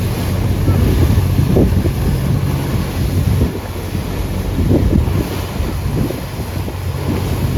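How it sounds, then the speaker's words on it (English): Steady rush of wind and water against a moving boat in New York Harbor heading toward the Statue of Liberty, with engine rumble and waves slapping the hull, loud and continuous throughout. "I just love this boat ride."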